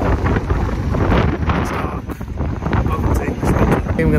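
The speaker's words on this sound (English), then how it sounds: "It's cold, it's windy," Gusty wind buffets the microphone outdoors on a cold, rainy evening, a rough continuous roar that swells and dips, with a person talking over it.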